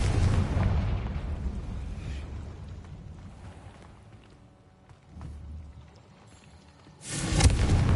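A Confringo fire-spell blast in Hogwarts Legacy lands as a loud, rumbling explosion at the start, then fades to a low roar, and a second heavy boom erupts near the end.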